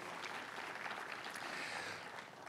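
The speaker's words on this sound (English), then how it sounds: "So give a round of applause for President David Carlisle, great partner." An audience at a university grand opening applauds a college president, a continuous, even patter of many hands clapping, faint and somewhat far off.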